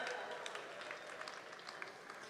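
Scattered applause from a comedy show audience, a steady patter of many hands clapping together, fairly quiet and distant-sounding.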